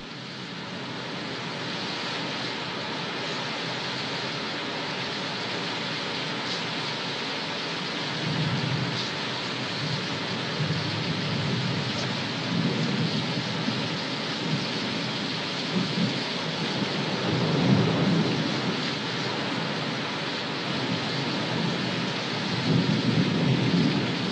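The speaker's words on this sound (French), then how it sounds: "Une nuit d'orage avec Sonia Petrovna" A stormy night of rain and thunder in a film scene: a steady, dense hiss of heavy rainfall with low rolls of thunder swelling now and then, continuous and fairly loud, with no voices.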